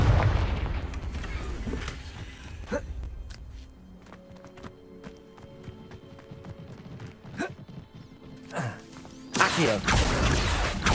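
Confringo fire spell blasts in Hogwarts Legacy, several sharp booming impacts with crackling tails spread across the stretch, the heaviest burst near the end, over ambient game sounds.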